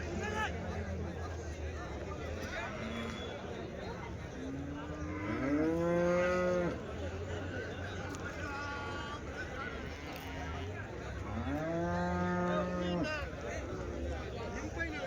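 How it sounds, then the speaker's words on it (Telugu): HF cows and calves at a Sunday cattle market in Chintamani give two long, drawn-out moos a few seconds apart over a busy background of crowd murmur. "ఇక్కడికి ఎక్కువగా హెచ్ఎఫ్ ఆవులు, హెచ్ఎఫ్ దూడలు ఎక్కువ వస్తుంటాయి."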